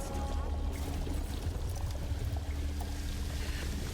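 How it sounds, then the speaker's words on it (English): Water gushes steadily into a room that is filling up in Alone in the Dark (2024), a loud, continuous rushing pour with a heavy low churn and no pauses. "Also, this is gonna fill up with water."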